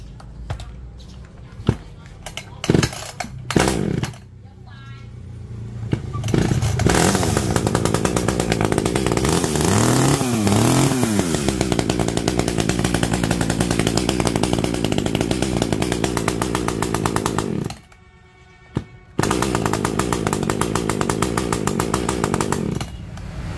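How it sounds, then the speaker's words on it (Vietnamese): A gasoline chainsaw from a batch of budget to mid-range home-use saws is pull-started after priming and choking, then roars steadily near and loud, with a few revs and one brief cut-out before it runs on. "Giờ mình sẽ nổ máy lên cho các bạn xem luôn nha"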